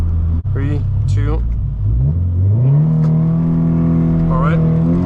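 A 2016 Scion FR-S with a six-speed manual launches from a stop, its engine note climbing steadily and loudly close by after a brief spoken countdown at the start.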